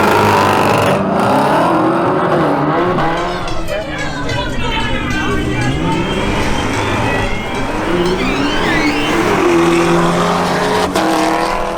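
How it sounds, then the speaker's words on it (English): At a drag strip, a Chevrolet Camaro ZL1 and an Audi S3 launch and accelerate hard. Loud engines rev through the gears, with tyre noise and a commentator's voice over the roar. "Next up is a duel between Pablo Golan Chevrolet Camaro ZL and Arturo Polo's Audi S3."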